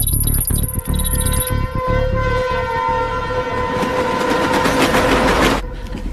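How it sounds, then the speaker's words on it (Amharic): A train moves along with rhythmic clattering of wheels on track, loud and close, a sustained horn-like tone rising over the rumble. "ባቡሩ ተነስቷል።"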